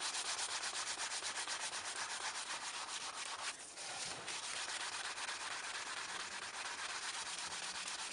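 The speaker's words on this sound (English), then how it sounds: "It just needs buffing up." Steady, even rubbing as a waxed, previously varnished wooden piece is buffed by hand to restore its sheen, a continuous close hiss with a brief dip partway through.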